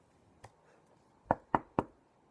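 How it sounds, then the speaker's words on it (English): Knocking on a door during a dramatic monologue performance: one light tap, then three sharp, evenly spaced raps, close and distinct against a quiet background. "Knock, knock."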